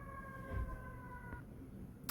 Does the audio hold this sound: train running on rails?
no